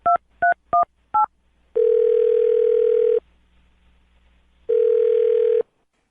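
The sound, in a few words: telephone dial tone while dialing a call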